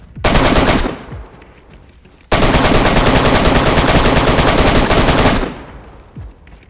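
Loud bursts of automatic gunfire in the video game DayZ, one short volley followed by a long sustained stream of rapid shots lasting about three seconds, close and dominant.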